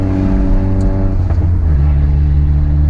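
A loud, deep car exhaust with resonator tips drones up close, a steady low rumble that shifts pitch slightly midway as the engine pulls.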